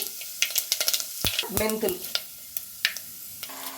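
Mustard, cumin and fenugreek seeds fry in oil in a clay pot for Telugu-style fish curry, crackling and popping in sharp irregular bursts over a soft sizzle, with a spoon scraping midway.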